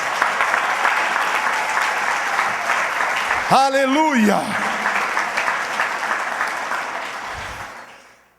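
Church congregation applauds steadily with dense clapping, while a voice calls out loudly in the middle before the applause fades away.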